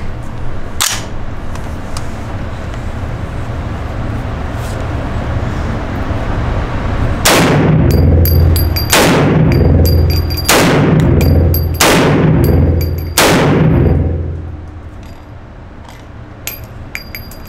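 Five loud unsuppressed rifle gunshots at an outdoor range, each a sharp crack with a booming thump and short decay, spaced about a second and a half apart after a single earlier shot.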